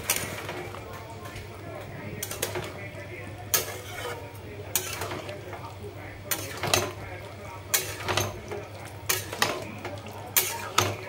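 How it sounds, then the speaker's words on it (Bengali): Paneer curry being stirred in a pan, with repeated scraping and clinking strokes of a spoon against metal over a soft sizzle, close, with someone talking in the background. "একটু নাড়াচাড়া দিয়ে তরকারিটা নামিয়ে নেবে"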